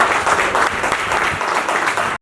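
Loud, sustained applause fills an award ceremony hall at the Braj Ratna Award 2020, a dense wash of many hands clapping steadily before cutting off abruptly at the end.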